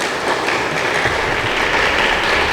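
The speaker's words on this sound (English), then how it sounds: "let's give ourselves a round of applause one more time" Audience applause at a public forum on Nigeria's regional system of government, a steady dense wash of many hands clapping throughout, fairly loud and even, with no voices over it.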